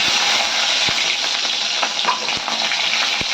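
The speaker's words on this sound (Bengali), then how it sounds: "এই তেলের মধ্যে এই যে শুকনো লঙ্কা দিয়ে দিলাম কালো জিরে দিয়ে দিলাম" Dry red chilies and black cumin (nigella) fry in hot oil in a kadai with a loud, steady hiss and sizzle, broken by a few soft clicks of stirring and no talk.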